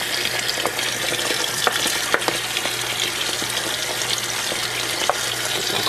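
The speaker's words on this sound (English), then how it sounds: "Cold water into the pasta." Cold tap water pouring steadily into cooked pasta in a kitchen sink, a continuous close hiss and splash with small scattered clicks, no talking.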